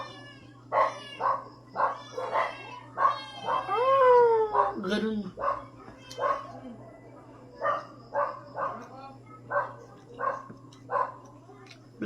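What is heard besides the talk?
dogs barking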